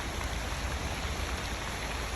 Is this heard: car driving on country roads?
no